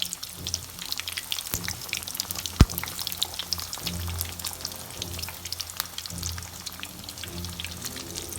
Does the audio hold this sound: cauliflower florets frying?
yes